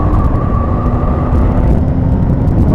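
A BMW GS motorcycle accelerates off road under open throttle, a loud, close, continuous engine roar with a rising tone, heard alone.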